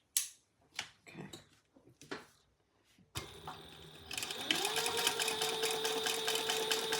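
A home sewing machine stitches fabric, its steady mechanical whir starting abruptly after a few brief handling noises and settling into a continuous, close running hum.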